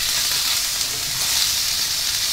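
Garlic and minced pork sizzling steadily in a pan over low heat, a dense close hiss that holds constant without a break and with no talking.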